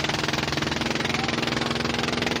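A fishing boat's engine runs during a chase, giving a steady, close, pulsing mechanical drone with a rapid regular thump and no voices.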